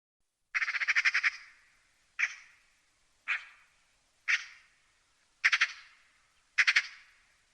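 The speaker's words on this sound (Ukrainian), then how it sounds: "Так скрекоче сорока. Скрекеке, скрекеке." A magpie chatters in six harsh, rattling bursts spaced about a second apart, the first longer than the rest. The bursts are clear and fairly close against a silent background.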